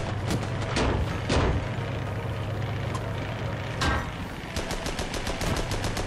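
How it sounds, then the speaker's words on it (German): Tank cannons fire in the video game Armored Battle Crew, with sharp rapid reports arriving in irregular bursts over a constant low engine rumble. The shots are crisp and cracking rather than deep booms, and no one speaks. "Jetzt lassen wir ihn nochmal schießen."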